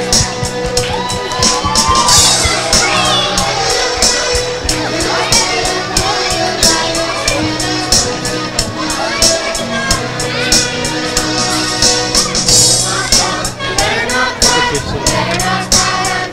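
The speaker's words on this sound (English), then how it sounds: "Can we give him a round of applause for coming?" At a community Christmas celebration, a crowd cheers, whoops and shouts as Santa arrives, loud and continuous over music and lively voices.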